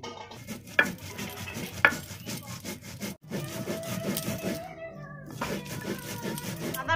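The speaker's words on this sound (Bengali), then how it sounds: "জিরে বেটে নেব।" Whole cumin seeds ground by hand on a grinding stone, heard as close, irregular scraping and rubbing strokes with a couple of sharp knocks and some clattering mixed in.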